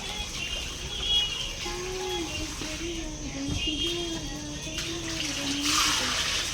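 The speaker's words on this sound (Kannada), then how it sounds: "ಬೋರ್ ನೀರು ಮಾಡ್ಕೊಂಡು ಬಾಗ್ಲು ತೊಳಿಯ ಕೆಲಸ ಕೊಟ್ಟಿದ್ದೀನಿ ನನ್ನ ಮಕ್ಕಳಿಗೆ" Borewell water gushes and splashes as children wash a door at home, a continuous running, splattering wash with faint voices and a bird call in the background.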